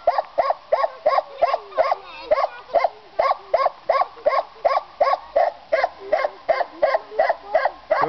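A hunting dog barks loudly and close by, with about twenty sharp barks in a steady, insistent rhythm and almost no pause between them.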